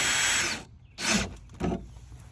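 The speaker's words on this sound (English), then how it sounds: "it's going to drill itself into the frame" Power drill driving a screw into a car's frame to mount a front speaker, three short whirring bursts, one longer then two brief ones, close and alone.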